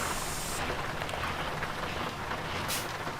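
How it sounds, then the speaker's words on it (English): Rain in American Truck Simulator falling around a used 2014 Volvo VNL truck cab, a steady dense patter with a low engine rumble beneath and a brief hiss near the end. "It's raining and it's probably cold."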